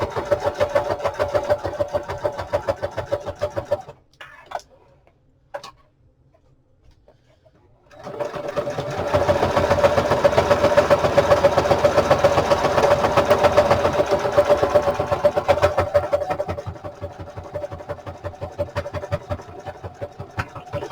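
Sewing machine back stitching along the top of a pocket on an old book cover, a close, steady mechanical whir that stops for a few seconds and then starts up again.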